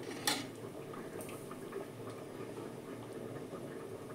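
Khichuri of Gobindobhog rice with hing bubbling in a pot, a soft steady simmering patter with a faint clink of a utensil near the start, quiet and close with no talk.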